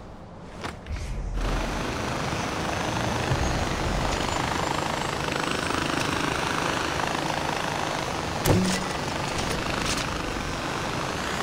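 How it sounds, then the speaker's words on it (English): Helicopter in the video game Far Cry 4: a steady, loud rotor-and-engine roar that holds throughout, with no talking. "So let me go in a helicopter."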